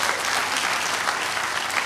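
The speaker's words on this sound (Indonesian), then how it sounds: "Beri tepuk tangan yang meriah buat Tuhan" Loud, sustained applause from a church congregation during a worship service, steady clapping filling the room for the whole stretch.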